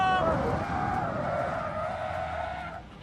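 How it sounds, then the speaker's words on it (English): Caterham race car tyres skidding as the brakes lock up at Donington Park Circuit during a motorsport race, a loud sustained squeal over engine rumble that holds steady for nearly three seconds before cutting off. "He got me with a massive lock-up."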